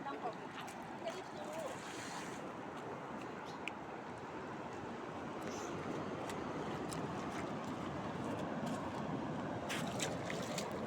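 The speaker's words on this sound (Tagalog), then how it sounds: "Ang sarap pakinggan yung tunog ng dagat" Continuous broadband wash of sea waves close by at a seaside cave in Virac, Catanduanes, steady and fairly loud, with gusty wind noise over it and no clear talk.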